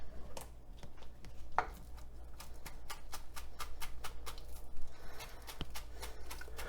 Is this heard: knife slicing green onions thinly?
yes